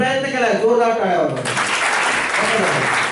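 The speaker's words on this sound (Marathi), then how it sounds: "जोरदार टाळ्या" Loud applause from a group at a school science-entertainment camp session, starting after a brief stretch of voice and filling the rest of the clip with dense, steady clapping.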